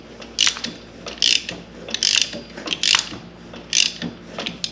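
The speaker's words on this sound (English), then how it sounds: "Okay, so that was our compression right there." A Honda TRX 200X ATV engine, revived after being seized, is cranked over repeatedly, giving about six loud rhythmic ratcheting bursts as it builds compression, with no talking.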